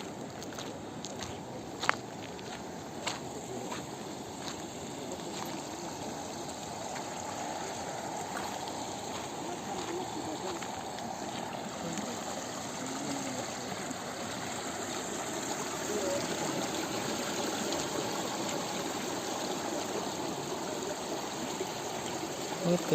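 Water trickles and streams steadily into a rainbow trout pool at a fish farm at close range, a continuous wash of flow with a few faint knocks.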